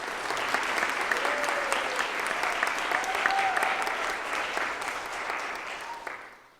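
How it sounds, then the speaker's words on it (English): Dense, steady applause fills a youth TEDx event hall, with faint voices mixed into the crowd, holding strong for about six seconds before fading out at the very end. "Please give them a round of applause one more time."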